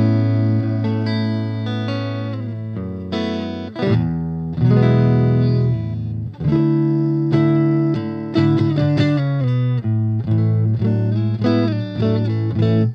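Electric guitar on its neck pickup with a clean tone through a cheap amp and some built-in spring reverb, playing sustained chords and melodic lines loudly and alone, with no talking.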